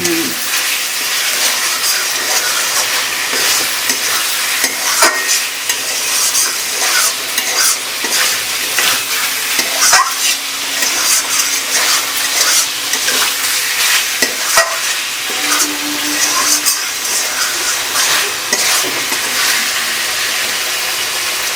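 Pork fries in mustard oil with constant loud sizzling and steady scraping and stirring, close up, running unbroken for a long stretch without talk.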